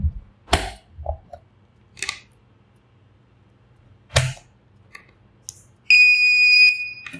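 Continuity tester sounding on a Cat 6 network cable: a steady high electronic beep held for about a second and a half near the end, preceded by scattered clicks and handling knocks.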